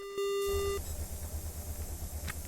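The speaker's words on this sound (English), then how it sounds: "the extra beeps and gleeps after you get out of the transit station is unnecessary" A short electronic beep sequence sounds in the Ostranauts space game just after leaving a transit station: a steady tone lasting about half a second, then a low, pulsing mechanical hum that continues underneath.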